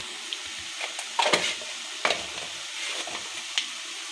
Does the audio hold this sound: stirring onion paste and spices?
yes